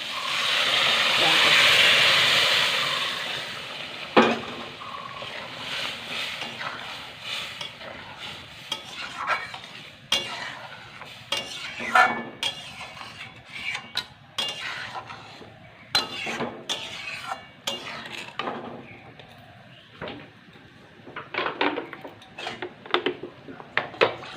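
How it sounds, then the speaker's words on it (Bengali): Boiled lentils for dal go into a hot pan of sautéed ingredients with a brief hiss, followed by repeated scraping and stirring knocks of a utensil against the pan in an irregular rhythm. "এর মধ্যে দিয়ে দেবো যে সিদ্ধ করা ডালটা রেখেছিলাম"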